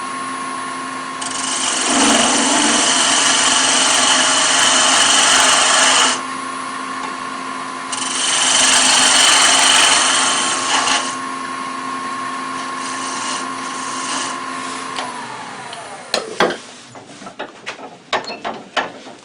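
Wood lathe turning a small tenon on one end of a wooden pill box blank, a steady loud whirring hum with two bursts of harsher cutting noise, winding down near the end followed by a few sharp clicks and knocks.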